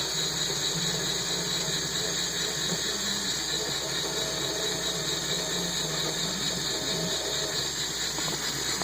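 A Lego 10-speed transmission with a 2-speed box runs in reverse low gear, giving a steady continuous mechanical whir and hiss with a low motor drone, unbroken throughout.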